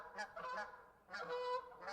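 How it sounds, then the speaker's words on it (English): A flock of geese flying south in V formation honk repeatedly in a few overlapping calls, faint and somewhat distant, in two short bursts. "she spotted a flock of geese flying south in their perfect V formation"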